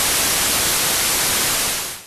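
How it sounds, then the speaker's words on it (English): Synthesizer white noise as a steady, loud, full-band hiss with no variation, fading slightly at the very end. "White noise sounds like this."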